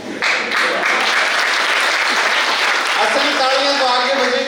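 A college NSS audience at a motivational laughter session claps loudly and continuously, a dense sustained roar of applause, with a voice coming in over it toward the end.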